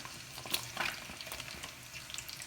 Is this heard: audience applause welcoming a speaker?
no